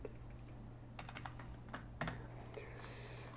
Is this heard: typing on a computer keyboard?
yes